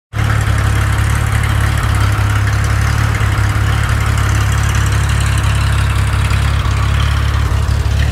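Car engine idling steadily after repair of a 123 electronic ignition distributor, a loud continuous low rumble with even firing and no breaks, running alone throughout.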